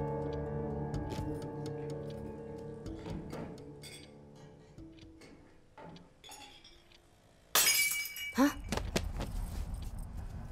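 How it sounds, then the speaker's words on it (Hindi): Glassy clinks and rattles under a low hum, then a drinking glass falls with a sudden loud crash and bright scattering shards near the end. "वो ग्लास गिर गया था"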